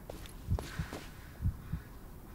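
Heartbeat effect in the Blair Witch video game, with slow paired thumps repeating at a steady pulse, low and fairly prominent over a quiet ambient background.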